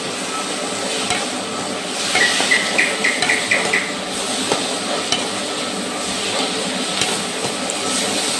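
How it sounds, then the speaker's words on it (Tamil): Chopped ridge gourd sautéing with salt in a hot pan for peanut chutney, a steady loud sizzle and hiss with occasional stirring scrapes, no talking. "அடுத்து பீக்கங்காயை போட்டு வதக்கிக்கணுங்க. தேவையான அளவு உப்பு போட்டு இதில் வதக்கிக்கணுங்க."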